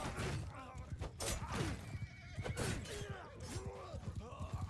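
Horses whinny and neigh repeatedly amid hoof clatter and clashing battle noise in the video game Mount and Blade 2 Bannerlord, several calls rising and falling over a dense melee din, with voices in the mix.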